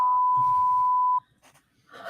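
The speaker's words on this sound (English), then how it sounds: "wrong answer buzzer" A wrong-answer buzzer tone during a band interview sounds once as a steady electronic note lasting about a second, clearly in front of murmured background chatter.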